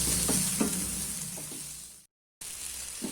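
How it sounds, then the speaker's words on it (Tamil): Tomatoes sauté in a pan with turmeric powder, a steady close sizzle with a few soft stirring scrapes, cut by a brief silence before the frying resumes. "தக்காளி நல்லா வதக்கிக்கலாம்."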